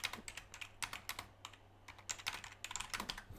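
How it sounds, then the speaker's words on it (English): Quiet typing on a computer keyboard, a rapid irregular run of light clicks and clacks heard close up with no voices. "So I'm just typing right here"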